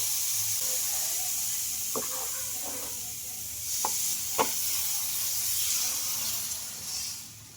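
Rice-rava sponge dosa batter poured onto a hot pan, a steady close hiss and sizzle with a few soft spoon taps and scrapes, without talk.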